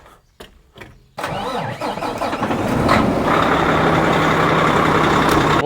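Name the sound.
pickup truck engine starting and warming up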